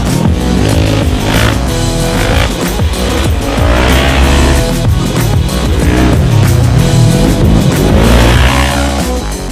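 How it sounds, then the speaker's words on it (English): A Manx-style beach buggy built on a cut-down Polaris RZR XP1000 frame and power plant roars along loudly and continuously, engine revving with some tire squeal. "And this Manx-style bodied buggy is like no other."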